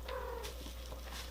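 A house cat gives a soft, drawn-out meow close by, with faint purring against a quiet indoor hum and no voices.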